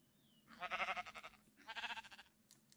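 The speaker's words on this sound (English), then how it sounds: "Just waiting on the sheep." Two bursts of bleating from a sheep in the video game Minecraft, each a wavering, harmonically rich cry of under a second, close and clear with a short pause between them.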